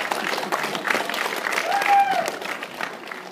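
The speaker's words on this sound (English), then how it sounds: "nice round of applause for everybody that we beat up so viciously there in that little skit" Audience applause after a comedy skit during a speech, a steady wash of clapping from a crowd at moderate level, with some voices mixed in underneath.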